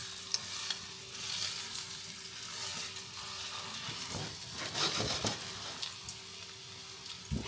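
Salmon patties fry in oil in a pan, giving a steady close sizzle with crackling pops and occasional scraping stirs as the pan is swirled to spread the oil.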